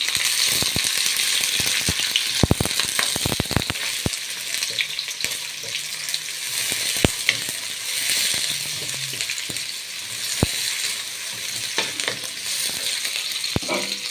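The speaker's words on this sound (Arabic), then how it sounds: "حطينا الطاسة على البوتاجاز، هننزل بالبصل" Onions sizzle steadily in a pan on a gas stove, a continuous bright frying hiss punctuated by sharp clicks and scrapes of a utensil against the pan, with no voices.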